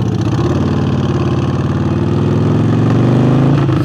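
Harley-Davidson 48 motorcycle fitted with a new air intake, idling loud and close with a steady throbbing V-twin rumble that swells slightly near the end.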